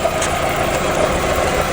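A car's 1.8T engine idles steadily and close by, a constant low rumble with no voices over it.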